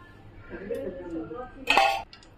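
A metal pot is set down on a kitchen stove with a sharp clang near the end, after quieter shuffling and utensil sounds while preparing to heat oil for frying chicken.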